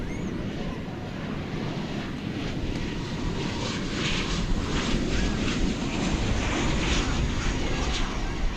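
An airliner at DFW Airport approaches with a dense, rumbling engine roar that swells gradually louder toward the end, heard over some wind buffeting.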